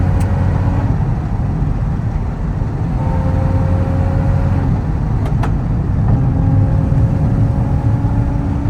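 A 1968 Karmann Ghia Autostick with a leaky throttle shaft accelerates, its engine droning steadily with a howling whine layered over the rumble, loud and close throughout.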